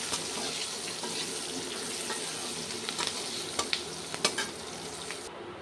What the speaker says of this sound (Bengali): পেঁয়াজটা আলুর সঙ্গে ভালো করে ভেজে নেব।